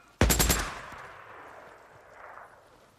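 A rapid burst of automatic gunfire in the video game Days Gone, loud and close, with several quick shots fired together and a long echoing tail fading behind them.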